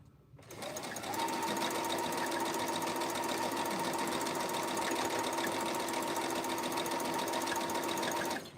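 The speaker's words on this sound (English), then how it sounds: "I'm sewing this together." A sewing machine stitching a quilt block together runs steadily with a fast, even mechanical whir after a brief start, loud and close for about eight seconds with no talking.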